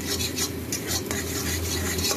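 Egg frying in a pan for chowmein, a continuous soft sizzle with utensil scraping and stirring against the pan, close and steady, no talk.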